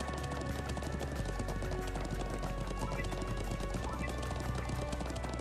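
Horse hooves clip-clopping in the video game Trails of Cold Steel 2, a steady rapid patter of hoofbeats over music and low hum, continuous throughout at moderate loudness with no talking.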